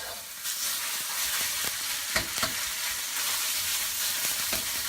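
Garlic chive flowers, pork and fermented black beans sizzle and crackle in a hot pan, a dense steady hiss with scattered pops and spits throughout.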